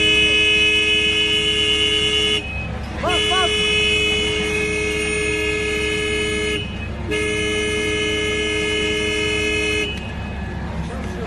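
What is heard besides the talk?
car horn honking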